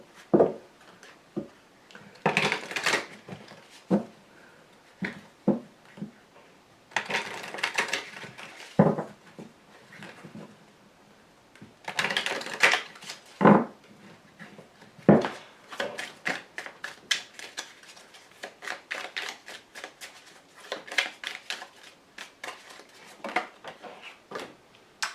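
Tarot cards are dealt and laid out nearby, making bursts of papery rustling alternating with quick series of light taps and flicks, some sharper snaps as cards land on the table.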